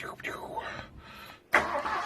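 A 1967 Ford Galaxie engine cranks with a falling, whirring starter sound, pauses briefly, then catches and fires up loudly near the microphone.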